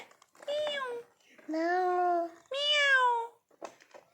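A voice imitates a cat with three drawn-out meows in a row, each rising and falling, separated by short pauses.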